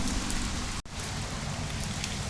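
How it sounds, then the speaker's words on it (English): Heavy rain pours steadily and loudly on surfaces around an outdoor engine teardown of a 1987 Toyota 4Runner 22RE, a dense continuous hiss with a brief dropout partway through. "So yeah, it's raining."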